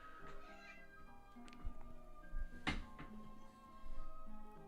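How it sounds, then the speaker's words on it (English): A house cat meows several times indoors, fairly quiet, with drawn-out tonal cries and one louder call near the middle. "That was my cat."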